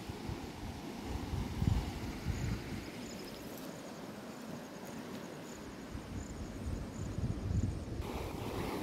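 River water rushes steadily in a rainy, planting-season countryside, a continuous broadband wash that swells a little in places and holds a moderate level for the whole stretch, with no voices over it.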